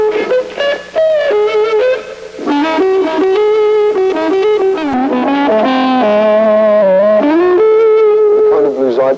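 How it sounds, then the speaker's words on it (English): Electric guitar played with the bass-side tone rolled off to its darkest setting and the volume full up, giving a smooth, muffled, horn-like sustained lead line of bending, gliding notes, loud and continuous with no talking. "The woman tone is produced by using either the bass pickup or"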